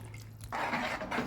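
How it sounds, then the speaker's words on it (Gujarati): About a glass of water is poured into a methi besan mixture in a pan, a short close splashing gush after a quiet moment. "હવે એમાં આપણે એડ કરશું 1 ગ્લાસ જેટલું પાણી."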